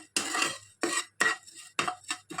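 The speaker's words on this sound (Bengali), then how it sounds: "শুধু কাঠখোলায় ভেজে নিতে হয় লাল লাল করে ভেজে নেবো" Rhythmic dry scraping and rustling, five or six strokes, as flattened rice is dry-roasted without sand, stirred and tossed in a clay pan, with brief pauses between.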